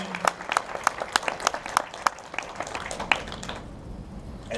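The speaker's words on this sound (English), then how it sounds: "Honorable applause" Audience at Toronto Comicon claps in a short burst, crisp individual hand claps ringing out fairly close and then thinning and fading within a few seconds.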